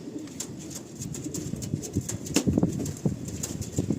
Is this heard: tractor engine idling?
no